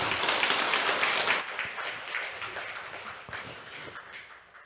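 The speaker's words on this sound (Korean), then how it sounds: "우리 크게 한번 영광의 박수 한번 드리겠습니다" A Sunday worship congregation at Seoul Sekwang Church gives loud, dense applause that gradually fades and thins out over several seconds.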